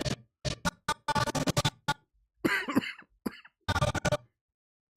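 Several bursts of coughing and throat clearing come in quick, rough clusters separated by brief silences, close and fairly loud.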